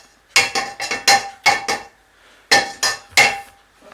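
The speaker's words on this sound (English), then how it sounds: "That's now going to go into the pestle and mortar" Toasted whole spice pods for a Thai beef massaman curry are tipped into a pestle and mortar, giving a string of bright hard clinks and rattles in several close, loud clusters with short pauses between and no talk.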